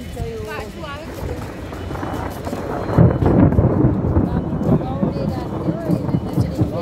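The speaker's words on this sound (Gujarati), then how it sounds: "વીજળીના કડાકા અને ભડાકા," Thunder rolls loudly during a monsoon storm near Botad and Salangpur in Gujarat, with a deep crash swelling midway amid rain and wind noise, under continuous talk.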